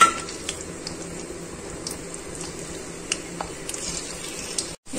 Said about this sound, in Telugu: హీట్ ఎక్కిందండి, వెల్లుల్లిపాయ వేస్తున్నాను.